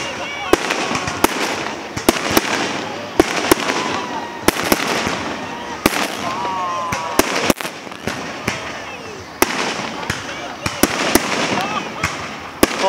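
Fireworks burst over Sapporo Dome in a rapid series of sharp, loud cracks and booms that keep popping throughout, while people talk nearby underneath.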